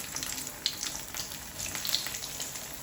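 Chicken and bread tikkis frying in hot oil over a low flame, giving a soft, steady bubbling sizzle with faint crackles throughout and no talking.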